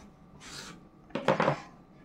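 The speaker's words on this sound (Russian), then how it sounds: "Сейчас разрежу, покажу, какой он на разрезе" A knife slices through a fleshy, meaty tomato at a tomato tasting: a short burst of crisp cutting and rasping near the middle, close and fairly quiet, with a softer rub just before it.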